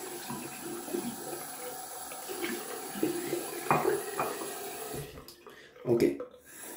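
Tap water runs into a sink for rinsing after a shave with a Gillette Fatboy razor and Proraso red cream, an uneven splashing trickle under a voice, with a louder gush near the end.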